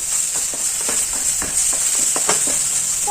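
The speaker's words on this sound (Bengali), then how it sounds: "মশলাটা কষাতে হবে" Spice paste (masala) being sautéed and stirred in a pan, a steady close sizzle with scattered scraping strokes of a spoon throughout, no voices.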